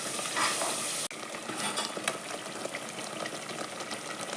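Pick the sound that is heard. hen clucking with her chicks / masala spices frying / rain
masala spices frying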